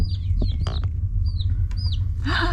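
A chicken with a wood chip stuck in its throat makes short, squeaky clucks and chirps close by over a low steady background hum.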